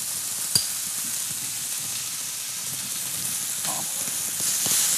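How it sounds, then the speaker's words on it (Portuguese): Bacon fries in a pan with a bright, continuous sizzle and crackle, steady throughout, marked by a single sharp click near the start. "Eu vou até começar depois com o bacon, para ele fritar."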